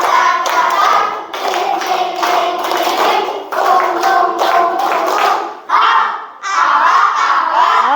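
Schoolchildren loudly chant together while clapping a rhythmic classroom clap routine, shouted voices in unison with bursts of hand claps and short breaks between phrases.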